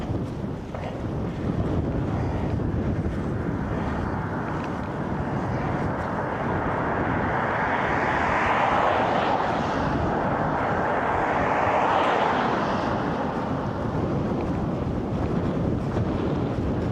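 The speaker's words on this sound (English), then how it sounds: "There's the wind though. We caught up to it." Strong wind roars across the microphone while cycling in Alta, Norway, a continuous low buffeting rush that swells and eases over time with no other clear sounds.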